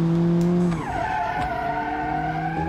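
Car in BeamNG.drive sliding under handbrake: steady engine drone, then a long tire squeal and skid whose pitch bends as the car slides, continuing over the running motor, loud and close with no voices.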